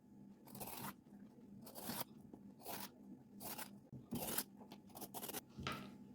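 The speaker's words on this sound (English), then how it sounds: "Use a peeler to peel the skin of the turai or ridge gourd." A peeler scrapes the skin off a ridge gourd in repeated short rasping strokes, roughly one per half second, close and quiet with brief pauses between strokes.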